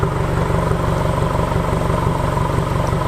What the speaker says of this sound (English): Last walk around of the car with its new exhaust.